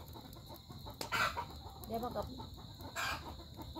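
Chickens clucking and calling on a rural morning, with a few distinct bursts over steady background hum and a voice speaking nearby.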